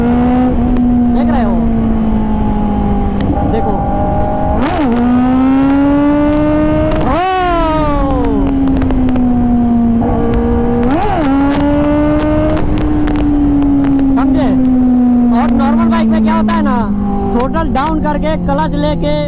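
Sport bike engine revved with clutch work while practising wheelies on a road: a loud, close, continuous engine drone that repeatedly climbs and drops in pitch, with one sharp blip midway, over steady wind noise.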